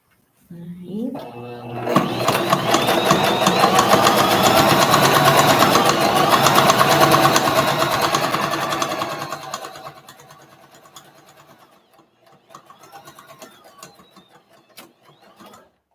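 A sewing machine topstitches a boxy bag, starting with a rising whir into a fast steady run for several seconds, then slowing to short stop-start bursts, close and clear.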